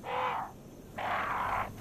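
Crows caw in Resident Evil HD, two harsh drawn-out calls about half a second each separated by a short pause, moderately loud over a quiet game backdrop.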